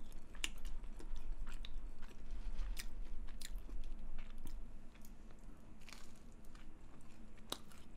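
Someone chews plump gambas shrimp up close, with steady wet biting and crunching sounds that keep going in a loose rhythm and no talk.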